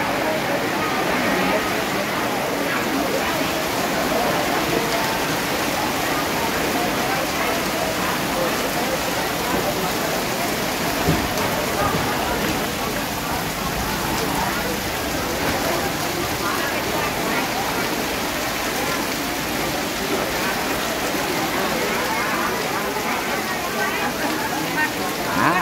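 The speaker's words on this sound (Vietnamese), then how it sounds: "Mưa quá." Heavy rain pours steadily at a Vietnamese outdoor rural market at Cà Nhung, Gò Quao, Kiên Giang, a dense continuous hiss throughout, while market chatter carries underneath.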